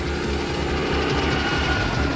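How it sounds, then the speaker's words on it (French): Helicopter chasing a character in the film Highlander 2, a loud continuous rotor drone with rapid low thudding pulses, steady and close throughout. "Pourchassée par un hélico, Louise va s'en sortir"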